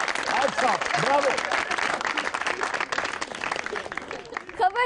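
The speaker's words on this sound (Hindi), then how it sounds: "ताली होनी चाहिए इसके लिए, ताली।" Studio audience applause on a Pakistani comedy talk show, a steady patter of clapping running beneath loud, animated voices of people talking and exclaiming over it.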